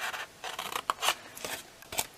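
Scissors snip through scored card in a handful of short, crisp cuts with brief pauses between them, close up and fairly quiet, no voices.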